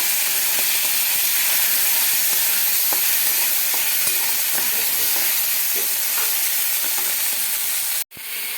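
Prawns stirred and frying in hot oil in a kadai, a steady loud sizzle with repeated scraping stir strokes, close up, ending in a sharp knock and sudden quiet.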